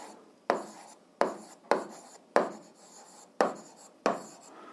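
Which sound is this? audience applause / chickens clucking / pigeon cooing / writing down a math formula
writing down a math formula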